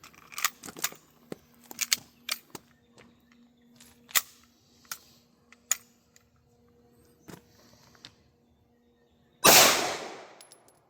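Gunshots from a Hi-Point C9 pistol firing SIG hollow point rounds: a series of sharp, separate cracks at irregular intervals, ending with a louder, broader blast near the close.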